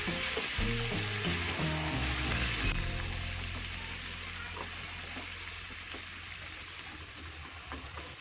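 Beef skin (kikil) cooking in a pot with water and salt, a dense bubbling sizzle that softens after a few seconds of stirring, steady and close with no voices.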